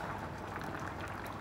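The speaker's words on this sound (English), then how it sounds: "cool down and stop bubbling like mental" A pot simmers on an electric cooker, cooking vegetable curry, giving a soft, steady low bubbling and gurgling that runs continuously and faintly at close range, with no talking.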